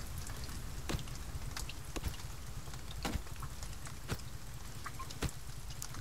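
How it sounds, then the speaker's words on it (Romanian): Steady rain falling in the survival video game The Forest, a constant hiss of drops with occasional sharper splashes, heard alone without talk. "Deci jocul ăsta cred că are ploaie infinită sau ceva. Tot timpul plouă"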